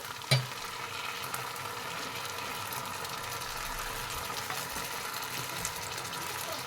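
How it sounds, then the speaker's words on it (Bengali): A paste of ground cashew, poppy seed and green chilli goes into onions frying in a pan, bringing a sharp knock at the start, then a continuous, close sizzle and hiss that holds steady to the end, with no talk. "এবার আমি এখানে একটা পেস্ট বানিয়েছিলাম, কাজু, পোস্ত আর 2টো কাঁচা লঙ্কা আমি মিক্সিতে বেটে নিয়েছিলাম, সেইটা ঢেলে দেব"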